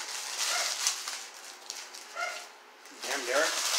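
A dog barks lightly in the background of an indoor room, with soft yips and whimper-like calls mixed in, partly under people talking nearby.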